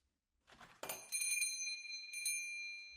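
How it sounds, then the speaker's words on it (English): A shop door chime rings in a quiet store, preceded by soft rustling, then bright metallic tones that strike twice and linger with a clear ringing decay, faint and alone. "Tom jumped when the door chime rang."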